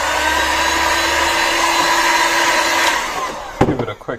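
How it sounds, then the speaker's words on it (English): A heat gun blows steadily to soften label adhesive on a kayak, giving a loud, continuous airy roar that cuts out near the end, followed by a few brief clunks. "I've just got the heat gun here."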